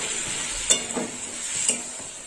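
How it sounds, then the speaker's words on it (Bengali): Spice paste and tomato wedges frying in a pan, a steady hissing sizzle broken by a couple of quick stirring scrapes. "টমেটোর সঙ্গে মশলাটা একটু কষা হবে।"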